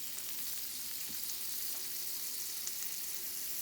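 A stick of butter sizzles and fries steadily in a pan for Alfredo sauce with lobster and shrimp, a continuous close crackling hiss with no talk.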